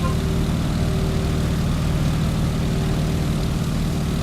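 Stearman biplane in Microsoft Flight with the prop set to full RPM: a steady, loud, continuous droning engine and propeller hum with a low throbbing pulse, unbroken throughout.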